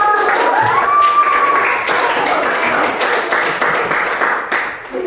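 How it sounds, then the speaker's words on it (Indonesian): Students in a classroom give a presenting group a round of applause, a dense steady wash of clapping filling the room at close range, with a few voices mixed in. "Ya, baik, tepuk tangan terus segalanya."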